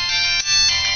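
A phone chimes an incoming text notification from the Orange carrier on a Chinese iPhone clone. The bright, steady electronic tone plays close and loud for about a second, with a brief dip partway through.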